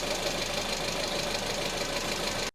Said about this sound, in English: Have you ever heard that annoying knocking sound coming from your engine?